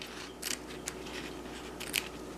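Scissors snip through material while repairing a Barbie doll, two or three short close crisp cuts with quiet pauses between.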